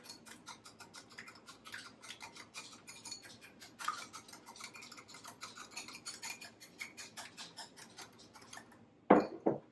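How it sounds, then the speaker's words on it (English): A whisk beaten through salad dressing for a watermelon and feta salad in a bowl makes rapid, even clicking strokes against the sides, close and fairly quiet, ending with a louder clatter. "Let's whisk that together."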